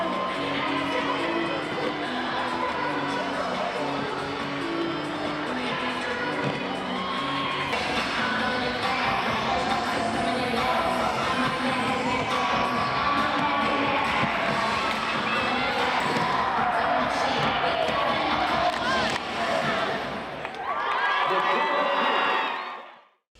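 Laguna Creek High School cheer team cheering with an enthusiastic crowd, a dense, continuous wash of shouting, whooping and young voices that stays loud throughout before cutting off abruptly at the end.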